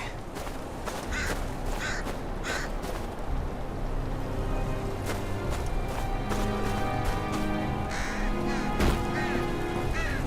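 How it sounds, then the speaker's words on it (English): Crows caw repeatedly in the video game Game of Thrones 2, their harsh calls repeating over a steady ambient bed of wind and distant rumble, with no talking. "Crows don't just circle around any old thing."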